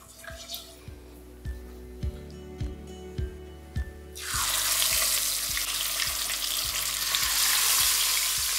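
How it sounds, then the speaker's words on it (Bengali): Tilapia frying in hot oil with turmeric: a few light taps and clinks come first, then a loud, continuous sizzle bursts in midway as the fish hits the oil, holding close and steady to the end. "একে একে আমি মাছগুলোকে ভেজে নেব"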